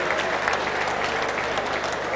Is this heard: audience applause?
yes